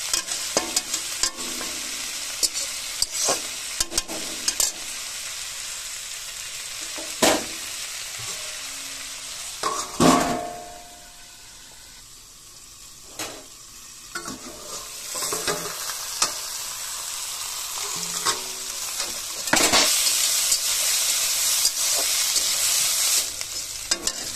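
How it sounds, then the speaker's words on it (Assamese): Food fried in oil with salt and stirred in a pan, a steady sizzle with intermittent scraping stir strokes and a few louder clatters, close and alone. "তেল নিমখ দি তেল লৰাই দিছোঁ অকণমান"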